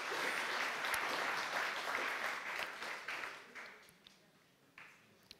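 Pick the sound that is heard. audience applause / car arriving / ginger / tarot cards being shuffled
audience applause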